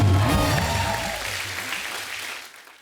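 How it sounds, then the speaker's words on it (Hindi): Studio audience applause on a Hindi comedy show, loud clapping at first that gradually fades away over a few seconds. "जोरदार तालियां।"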